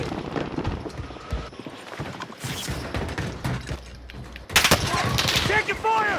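Gunfire in a Call of Duty Rebirth Island match, loud scattered shots and a sharp close burst near the end, mixed with game voices and movement noise.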